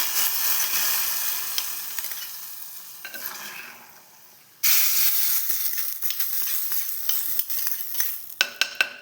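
Hot fried coconut pieces and onion sizzle and crackle loudly as they are poured and stirred into a breadfruit masala curry, with a pause in the hiss midway before a fresh burst of frying and sharp clinks near the end.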